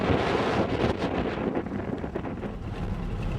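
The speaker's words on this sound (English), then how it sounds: "There's a bloody blowy one today." Strong wind buffets the microphone on an outback road near Halligan Bay, Lake Eyre, a loud, steady roar with gusty surges throughout and no voices.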